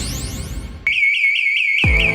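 A loud electronic alarm siren in a radio advert for a security alarm company, a sharp warbling tone that cuts in abruptly after a brief musical sweep and holds steady.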